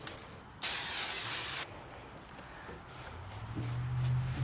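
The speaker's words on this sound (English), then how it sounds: "I'm just gonna spray the sides and everything will" Aerosol can of automotive surface prep cleaner spraying onto the sides of an arcade cocktail cabinet during a restomod, one loud steady hiss lasting about a second, followed by quieter handling noises and a low hum.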